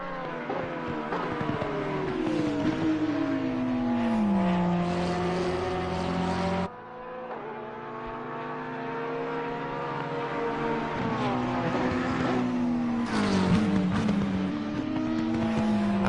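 Race cars, a Porsche and a Lexus, lapping Mount Panorama during a 12-hour race, engines wailing close by with rising and falling revs through gear changes, loud and continuous with a brief dip midway.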